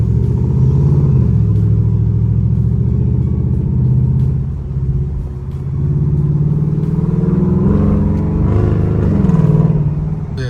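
A Ford Mustang GT with a Valvetronic exhaust, valves open, idles and revs with a deep steady rumble close by, swelling into a louder blip near the end.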